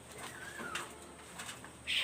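Soft cooing from Teddy and Kamagar pigeons in a home loft, low rolling calls nearby with a brief flutter or rustle near the end and no voices.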